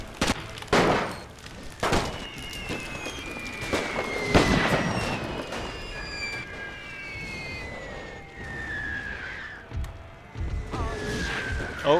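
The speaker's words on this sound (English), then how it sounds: "the enemy's putting a heavy amount of artillery onto this house" Artillery shells landing on a house in The Great War game, with repeated sharp blasts and cracks scattered through a busy battlefield din, some close and loud, others more distant, over whistling and crackling background fire.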